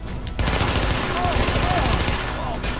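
Rifle gunfire rings out in The Division shooter game, dense rapid shots cracking loudly over a continuous din of battle, with the firing thinning briefly near the end.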